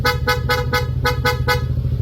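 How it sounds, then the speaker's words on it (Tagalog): Horn on a Yamaha NMAX V1 scooter, fitted with a multi-mode switch, honking in seven quick, evenly spaced blasts, loud and close, with a motor idling underneath. "stock horn, long press, rapid, switch, blow punk, shell horn"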